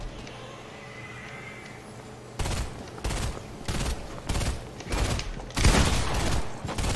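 Gunfire in the Fortnite video game, a run of loud broadband bursts in uneven rapid clusters after a quieter opening stretch, with no talking.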